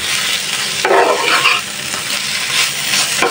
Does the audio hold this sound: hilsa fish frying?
yes